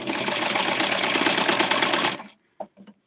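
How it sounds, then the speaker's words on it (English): A serger runs at speed, stitching fabric for a Barbie dress in a dense, rapid mechanical whirr for about two seconds, then stops, followed by a few quiet clicks and thumps close by. "I'm going to do the serger here"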